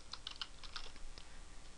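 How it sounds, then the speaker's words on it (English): Fingers type on a computer keyboard, entering text into a search bar as a quick, close run of light key taps for under two seconds, with no voices. "just type in this in the search bar,"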